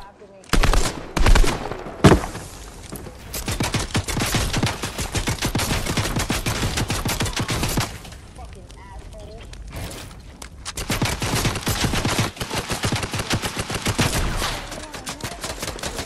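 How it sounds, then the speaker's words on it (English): Gunshots in a video game ring out in fast repeated bursts, loud and close, with a short quiet stretch midway before the firing resumes; a voice talks faintly underneath at times. "Dang, I'm missing every shot."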